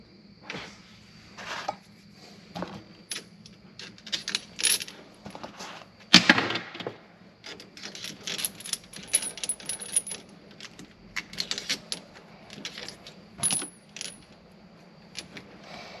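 A metal bracket is handled and fitted onto a Jeep Wrangler transfer case cable, giving scattered close-up metallic clinks, taps and rattles in irregular bursts, with one louder clatter partway through.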